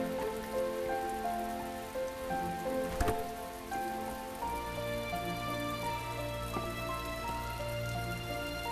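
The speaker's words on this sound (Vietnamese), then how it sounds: "Trời mưa rồi, cho bạn nè, khỏi dầm mưa nữa." Steady rain falls throughout, a dense close patter on surfaces with a brief louder splash partway through and a low rumble joining in the second half.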